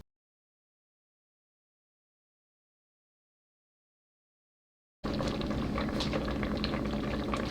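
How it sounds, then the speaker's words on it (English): After five seconds of silence, a pot of cranberries on the stove comes in at a steady, close, low simmering bubble that carries on without talk. "we've got a very small boil going on"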